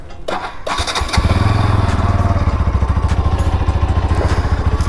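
A Bajaj NS200 motorcycle starts up at a showroom service bay: a brief starter whir, then the single-cylinder engine catches and settles into a loud, steady, throbbing idle close by.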